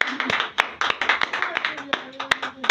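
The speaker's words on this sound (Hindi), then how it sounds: "और खुदा के पाक रूह के लिए जोरदार तालियां बजाएं।" A church congregation claps loudly in worship, with irregular sharp hand claps ringing out close by while voices carry underneath.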